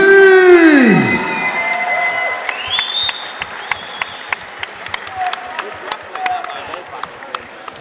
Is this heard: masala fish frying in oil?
no